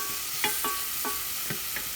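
A spoon stirs apple, maple syrup and apple cider vinegar in a pan, making about five soft scraping strokes in an uneven rhythm, close and fairly quiet over a faint background hiss.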